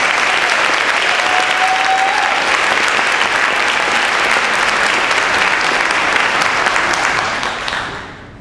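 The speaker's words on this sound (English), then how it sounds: "Let's give a round of applause for these students." Sustained applause from a ceremony audience honoring graduating students at a college cording ceremony, loud and steady throughout before tapering off at the very end.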